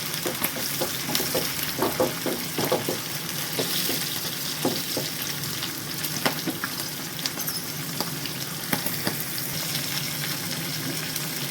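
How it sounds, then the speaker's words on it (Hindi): Green chillies and peas frying in a pan for mixed vegetable samosa filling, a steady broad sizzle with scattered crackles and stirring scrapes throughout, close and fairly loud, with no talking. "सब्ज़ मिर्ची डालेंगे, थोड़ा सा इसको फ्राई करेंगे।"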